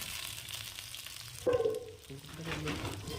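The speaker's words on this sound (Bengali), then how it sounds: "ভাজা হবে এই পেঁয়াজটা" Onion frying lightly in a pan, a soft continuous sizzle with a brief stirring clatter midway, quiet and close.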